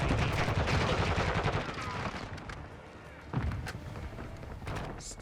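Gunfire in the video game Modern Warfare 2, with dense rapid bursts at the start that thin out into scattered single shots and thuds, fairly loud and close.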